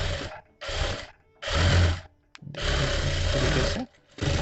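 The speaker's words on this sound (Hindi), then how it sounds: "वहाँ से आपको सिलाई लगाते हुए इसे पैक कर दें" A sewing machine stitches a blouse sleeve in bursts, its needle chattering in four or five runs of about half a second to a second, separated by short pauses, fairly quiet and close.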